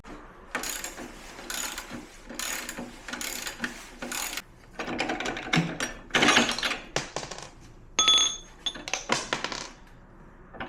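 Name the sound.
ratchet straps being tightened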